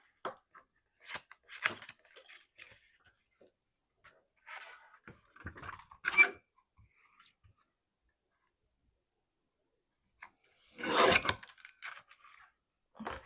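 Scissors cut paper for a handmade interactive writing space in short, scattered bursts of snipping and rustling, separated by quiet gaps, close and fairly soft.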